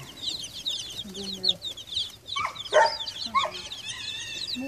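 Dark Brahma chickens cluck and call in a coop, with scattered close clucks and higher chirps, one louder squawk in the middle, and faint sounds of other birds around.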